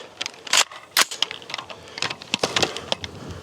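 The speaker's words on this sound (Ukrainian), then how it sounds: "Постріл." A few sharp cracking reports stand out among clattering mechanical clicks and handling noise, loud and close, with no voices.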